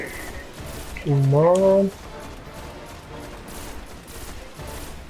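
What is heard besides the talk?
enemies shooting at once in the video game Destiny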